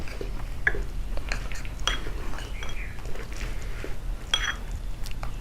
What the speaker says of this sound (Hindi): अब मैं इसे मिक्स कर रही हूँ। Mix it well.